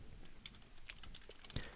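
Faint typing on a computer keyboard while entering a command search in Cinema 4D R14, a few soft scattered keystrokes with one sharper tap near the end, alone over quiet room noise.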